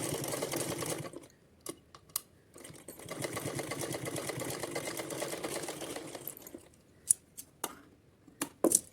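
A sewing machine stitches a lace frill for a small Kanha ji outfit in two sustained whirring runs, separated by a pause and followed by scattered sharp clicks and short taps as the fabric is handled.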